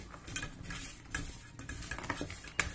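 A spoon stirs flour dough for a Christmas fruit chocolate cake, giving irregular scraping and clinking strokes against a bowl, close and fairly quiet, with no talking.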